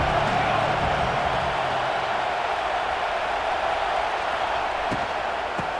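A stadium crowd at a college football game roars as one steady, loud wash of cheering noise that fills the full stretch without a break, and no clear voice stands out.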